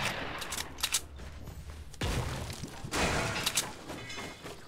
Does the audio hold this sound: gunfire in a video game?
yes